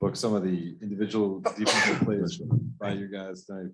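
A single sharp sneeze bursts out during a basketball interview, surrounded by ongoing conversation from several speakers.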